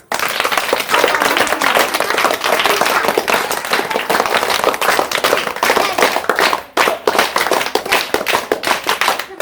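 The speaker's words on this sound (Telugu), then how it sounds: "ఈ గేమ్లో అంజు గెలిచాడు క్లాప్స్" Children clap together for a game winner at a Children's Day school event, loud, close, rapid applause that carries on steadily, dipping briefly near the end before picking up again.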